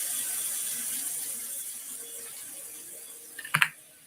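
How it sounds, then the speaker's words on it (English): Tap water runs steadily into a sink while asparagus is rinsed, a soft continuous hiss that fades a little, ending in a few sharp clanks near the end. "rinse off this asparagus a bit"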